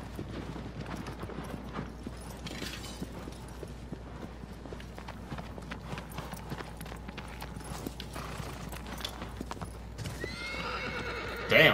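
A horse in the video game Shadow of the Colossus clip-clops along at a steady walking rhythm over game ambience, then gives a sharp whinny near the end.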